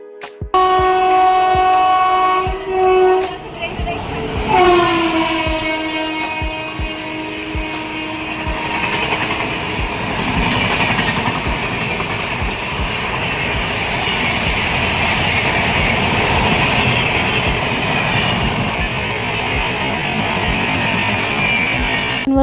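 A train with a loud horn blast at a railway station in Varangaon, Jalgaon district, followed by the steady rumble and clatter of rolling wagons that continues close by throughout.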